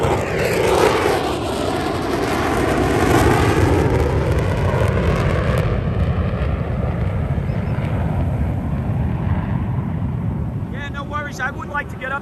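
A military jet sweeps past in a flyby at the Fort Lauderdale air show on the beach, a loud sustained roar that swells and slowly fades while spectators chatter nearby.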